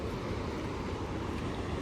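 Water rushing out of Girna dam, a loud, constant roaring torrent with deep rumble and broad hiss, close and unbroken.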